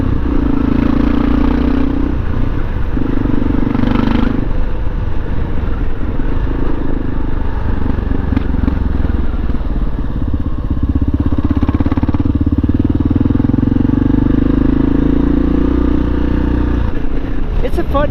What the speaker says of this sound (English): this one sounds great with the aftermarket exhaust